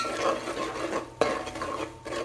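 A spoon scrapes and clinks against a cooking pan as spices are stirred over a lowered flame, with soft repeated strokes and one sharper knock, close and fairly quiet.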